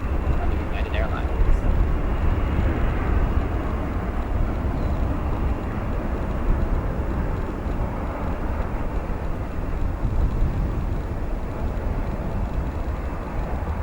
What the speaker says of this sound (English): Next up, an Embraer E175 from St. Louis.